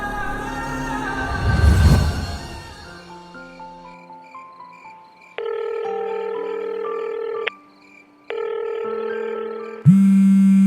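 A telephone rings in a Bangla drama scene, sounding as a clear electronic tone sequence that repeats in steps after a brief louder burst, then ends with a sharp click.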